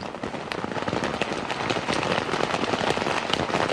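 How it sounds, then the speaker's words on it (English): Heavy tropical downpour in Sulawesi beats directly on a camera, dense rapid crackling impacts like gunfire or firecrackers, loud and close, continuous throughout. "it's the rain beating on the camera during the typically tropical downpour which beset the first day"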